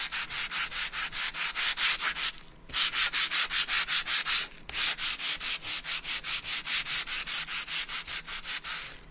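Coarse grit sandpaper rubbed by hand over a home decor piece, a close, steady series of rhythmic rasping strokes with two brief pauses, no voices.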